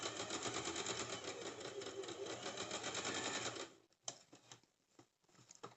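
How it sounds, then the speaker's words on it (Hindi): A sewing machine runs steadily while stitching a cigar pant, a double line of stitching along the curved seam, loud and continuous for nearly four seconds before stopping, followed by a few brief clicks and handling sounds. "मैं इस पे भी डबल सिलाई चला देती हूँ।"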